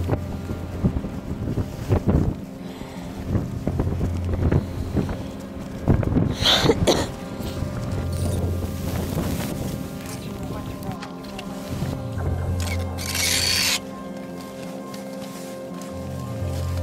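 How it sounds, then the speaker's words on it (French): Strong wind on Nanga Parbat in winter buffets the microphone in loud, uneven gusts, with rumbling low roars and bursts of noise that rise and fade throughout. "Et il y a aussi beaucoup de vent."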